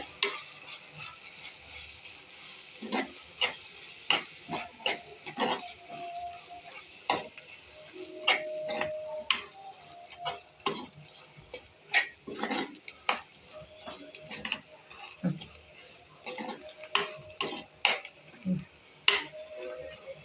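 Spices of coriander, chili and turmeric powder being stirred into mutton curry in a pot, with repeated spoon scrapes and clinks over a low sizzle, close and moderately loud.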